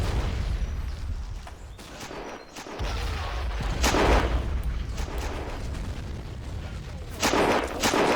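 Gunfire in the WW1 game Battle of Empires 1914-1918 during a German assault on the Hindenburg Line: steady rifle and artillery shots crackle and boom throughout, some sharp close reports standing out over continuous battlefield din.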